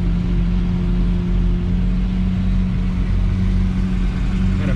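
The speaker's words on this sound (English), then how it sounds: "I know you guys hear the SVJ. The way that engine is screaming," A Lamborghini Aventador SVJ V12 engine drones loudly and steadily at high revs, heard from close by without pause.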